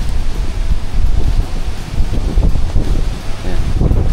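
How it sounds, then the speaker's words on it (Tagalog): Strong typhoon wind buffets the microphone on an island coast at night, loud gusty rumbling and rustling that rises and falls for several seconds, with no speech. "Medyo malakas na yung hangin."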